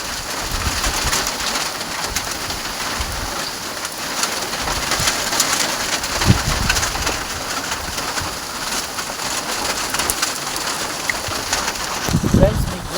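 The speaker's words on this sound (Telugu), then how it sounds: "వడగళ్ళు ఐస్ గడ్డలు లాంటి వడగళ్ళ వాన పడుతుంది" Hail and heavy rain pour down in a steady, dense hiss with scattered sharper impacts, while pigeons coo nearby in the background.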